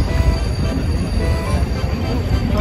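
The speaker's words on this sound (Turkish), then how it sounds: "Şu anda da bir hızlı tren istasyona yanaşıyor." A high-speed train pulls into Cologne's main station, a steady low rumble and rolling wheel noise with faint squeals, continuous and fairly loud throughout.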